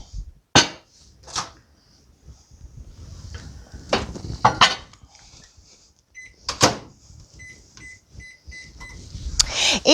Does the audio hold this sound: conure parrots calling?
no